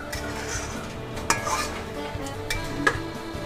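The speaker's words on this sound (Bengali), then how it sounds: "এক কাপ দুধ দিয়ে একটু ভালো করে নাড়াচাড়া করে নেব।" A ladle stirs spiced gravy in a pot just after a cup of milk is added, soft bubbling and a low sizzle under intermittent metallic clinks and scrapes against the pot.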